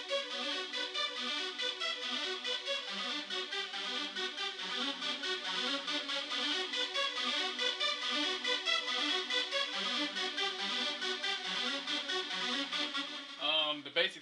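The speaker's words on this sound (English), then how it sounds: "The basic sound I'm trying to go for is like between a rap, hip-hop, and a techno sound altogether." A simple electronic beat pattern blending rap, hip-hop and techno plays back continuously and fairly loud, steady repeating rhythm with no voices, stopping abruptly near the end.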